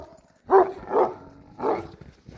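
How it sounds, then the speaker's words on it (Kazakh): Farm dogs at a rural Kazakh homestead with sheep and cattle give three separate barks, spaced about half a second to a second apart, moderately close and clear against a quiet background. "Иттеріміз тұр."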